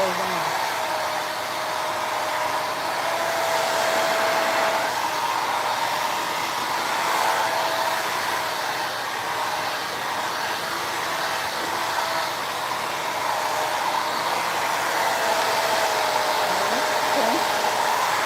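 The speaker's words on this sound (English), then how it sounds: "I can't hear you. When the blow dryer is on." A blow dryer runs loudly and continuously, a steady high whooshing roar with a faint whine, while people talk underneath it.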